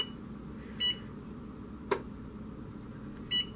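Kitchen timer being set for banana blueberry muffins, giving three short electronic beeps spaced apart, with a sharp click in between, over quiet kitchen room noise.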